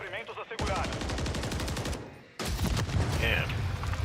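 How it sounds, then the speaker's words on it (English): Gunfire in Warzone: two loud, fast bursts of automatic shots separated by a brief pause, close and harsh, with a little background noise before the first burst. "Getting shot."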